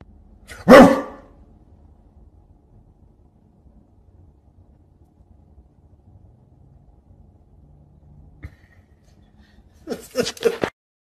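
One sharp, loud dog bark near the start, then a long quiet stretch before a short burst of voice at the end.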